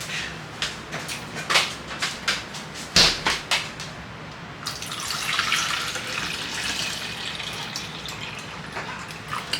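Water pours steadily into a jug holding ice, a close, continuous splashing stream that rises into a fuller rushing fill, with a few clinks and knocks at the start.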